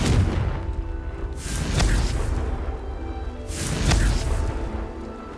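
Confringo spell blasts in the video game Hogwarts Legacy: two heavy booming explosions with whooshing bursts over a dense rumbling game soundscape, steady and fairly loud throughout.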